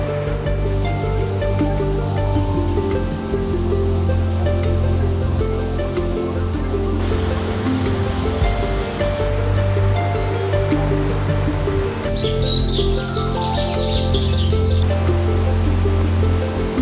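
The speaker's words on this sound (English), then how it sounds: "the trickling streams merge into a fast-flowing river" A fast-flowing mountain river about 1,000 meters up in Guanshan, lined with evergreen broad-leaved trees, gives a steady, loud rushing roar throughout, with a few faint bird calls above the water.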